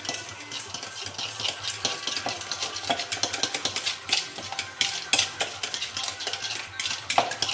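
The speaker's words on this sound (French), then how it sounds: "Et je vais bien mélanger." Half a pot of sugar stirred into peanut-butter cupcake batter in a bowl: rapid, rhythmic scraping and clicking of a utensil against the bowl, close and continuous, with no voices.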